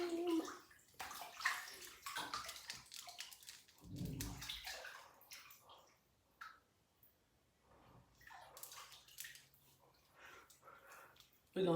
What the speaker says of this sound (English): We're going to start by washing our face